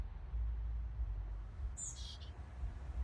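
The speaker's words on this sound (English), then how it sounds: "Oh, that's the chickadee." A chickadee's brief high call chirps once in the distance, barely above a steady low outdoor rumble.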